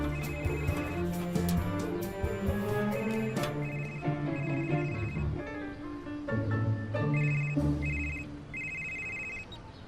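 A telephone rings in repeated bursts during a comedy scene, its bell tone recurring in a steady pattern over background music and room sound.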